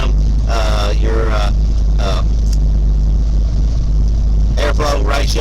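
A 1969 Camaro V8 idles steadily at about 750 RPM, a constant low rumble running throughout, with a person talking over it in bursts.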